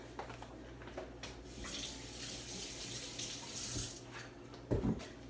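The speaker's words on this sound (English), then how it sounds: "just gonna rinse the hands" Hands rinsed under a running kitchen tap during food preparation: a steady, soft hiss of flowing water with a few splashy bursts, and a louder clatter near the end.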